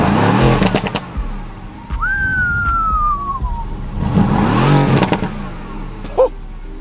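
A Mercedes-Benz AMG GT engine runs with a steady, low rumbling drone, while a thin whistle-like tone slides downward over it midway and a few brief sharp knocks punctuate the sound.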